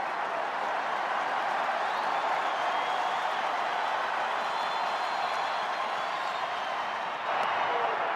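Restless crowd murmur fills a baseball stadium during a full-count at-bat in a Tigers vs Dodgers regular-season game, a steady, even roar with scattered claps and no single voice standing out.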